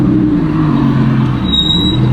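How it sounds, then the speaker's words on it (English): An Audi R8 with carbon ceramic brakes rolls to a stop, its steady engine and road hum loud and close, as a thin high brake squeal sets in partway through and holds to the end. "It just squeaks every time you come up to a red light or stop sign"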